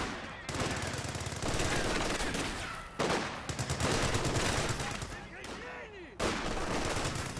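Rapid rifle and machine-gun fire rattles almost without pause in a Company of Heroes 2 battle, veteran US riflemen shooting at German Grenadiers holed up in a garrisoned building, with dense volleys broken by a few brief lulls.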